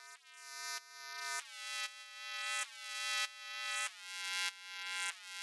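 An 808 bass in Ableton Live is heavily saturated and over-compressed in parallel, producing a buzzy, harmonic-rich tone in quiet, repeated swelling pulses with sharp resets between notes.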